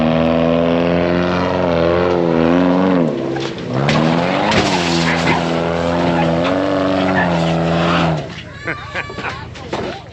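A Subaru car grinds over the rock slabs of Hell's Revenge off-road trail, its engine droning and revving in rising and falling pitch under a loud excited voice, ending with rougher scraping noise.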